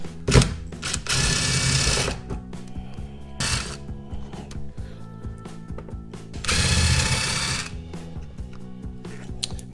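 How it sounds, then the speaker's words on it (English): A power driver removes T25 Torx bolts on a Mercedes W204 side mirror, whirring in three loud bursts with short pauses and light clicks between them. "you need to remove these three T25 Torx bolts."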